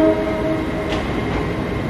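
Azuma train passing through Glasgow Central station on a rainy day, a loud close rumbling roar with a brief horn-like tone at the start, steady throughout.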